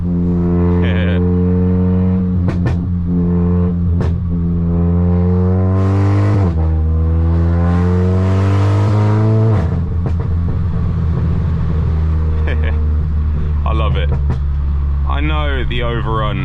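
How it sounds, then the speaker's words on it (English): A Stage 3 VW Golf R with roughly 500 bhp in race mode and manual, driven on winter roads, its exhaust droning loud and close as revs climb and drop through gear changes, with overrun pops and crackles near the end. "Let's hear some of that exhaust."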